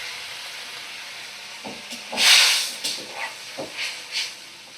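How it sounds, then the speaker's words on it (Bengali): Half a cup of water poured into hot fried masala for a koi fish and brinjal curry, giving one loud steamy hiss that swells and fades, followed by smaller sputtering sizzles. "এবার দেব আমি পরিমাণ মতো জল। দেখো 1/2 কাপ জল দিলাম।"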